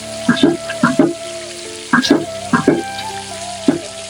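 Garlic ginger paste stirred into frying onions in a pan for turai sabzi, giving loud, close bursts of sizzling and scraping in an uneven rhythm over a low hiss.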